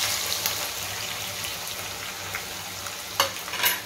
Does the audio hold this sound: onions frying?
yes